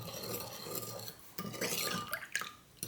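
Chili powder and garlic stirred into a seasoning mixture for braised radish, a short run of soft scraping and light clinks of a spoon against a bowl, close and quiet.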